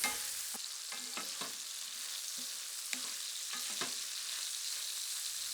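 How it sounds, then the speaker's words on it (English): Plant-based beefless tips brown in a pan seasoned with salt and pepper, with a soft, steady sizzle and a few quiet scrapes and taps from turning them. "let cook for 3 or 4 minutes, or until the tips are nicely browned on all sides"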